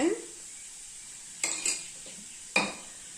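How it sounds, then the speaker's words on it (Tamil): Onions with a little salt sautéing in a pan for corn sundal: a faint, steady sizzle under three sharp stirring scrapes of a spoon against the pan. "போட்டு கொஞ்ச நேரம் நல்லா வதக்கிக்கலாம்"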